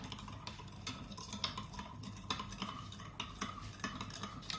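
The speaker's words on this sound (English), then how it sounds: "So we're going to stir this until our sugar has dissolved." A spoon stirs sugar into Jamaican sorrel drink, giving soft repeated clinks and swirling liquid sounds against the container, close and fairly quiet with no voices.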